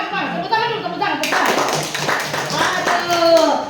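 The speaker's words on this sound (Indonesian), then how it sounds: "Tepuk tangan dulu, tepuk tangan." Students clap their hands at a school outreach event at SMPN 7 Tolitoli, a dense burst of many claps that builds after a quieter start, with voices talking over it throughout.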